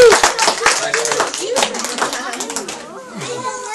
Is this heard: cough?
no